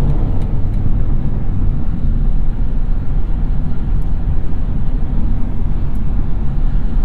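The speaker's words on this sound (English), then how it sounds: "we're gonna get up to highway speeds here at a reasonable pace and set our cruise control at a GPS indicated 72 miles per hour" A 2021 BMW 430i Convertible accelerates steadily toward highway speed, its engine and road noise forming a continuous loud rumble heard from inside the cabin, with no talking.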